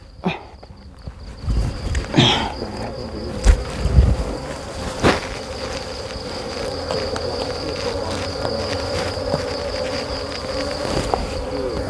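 Wild honeybees (cavity-nesting Thai hive bees) buzzing at their nest hollow, a steady close drone with a constant whine, punctuated by occasional knocks and rustles, no talk.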